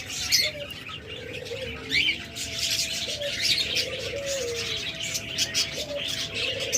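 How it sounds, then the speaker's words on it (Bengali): Master pair lovebirds chirp and tweet repeatedly in close, busy bursts, joined by softer cooing calls from nearby birds, with no talking. "master pair lovebird"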